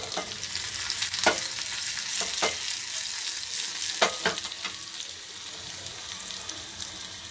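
Crushed garlic and cumin seeds fry in hot oil for dal, a steady close sizzle broken by a few sharp stirring scrapes, with no voices.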